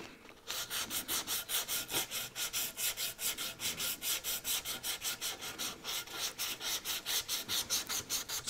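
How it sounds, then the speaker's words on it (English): Sandpaper of 320 grit, pressed under a thumb, rubs the wood of an antique dressing table in fast, even back-and-forth strokes, close and steady, about three per second. "I'm using the pad of my thumb as a sanding block"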